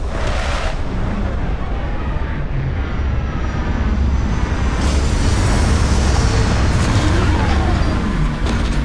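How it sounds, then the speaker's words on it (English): Spaceship setting down on a planet in Starfield, a loud, continuous engine roar with a rumbling low end and hissing thrust that swells slightly midway, close and alone. "Landing side looks clean. Let's set it down."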